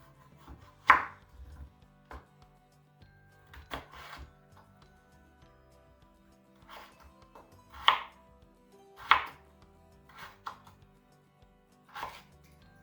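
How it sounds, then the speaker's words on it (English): Washed potatoes are chopped into bite-sized pieces on a board, with sharp knife thuds landing at irregular intervals, some single and some in quick pairs, over a quiet kitchen background. "Give my potatoes a wash. And chop them up to bite-sized pieces."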